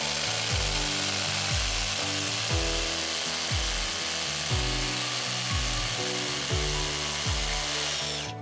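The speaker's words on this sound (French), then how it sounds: "Percez les 4 trous avec un foret de 10 mm." A 10 mm bit drilling four holes while a GROHE Rapid SLX WC support frame is installed, close and loud, with steady power-tool whine broken by regular repeating bursts as each pass bites, no talking.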